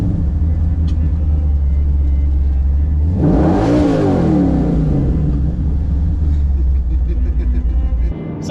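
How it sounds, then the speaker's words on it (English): A 1969 Chevrolet C10 longbed stepside with a 700-horsepower big-block 540 V8 idles with a deep steady rumble, then blips into a loud rev that swells and falls back to idle. "my 1969 C10 Longbed step side with a 700 horsepower big block"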